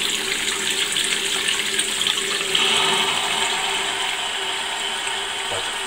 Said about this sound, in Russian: Испытываем специальную насадку LED для крана.